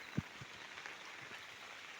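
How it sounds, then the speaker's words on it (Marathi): Soft, steady patter of light rain with a broad hiss and a faint low thump near the start; quiet and even throughout. "थोडासा रिमझिम पावसाच्या धाराही सुरू झालेल्या आहेत"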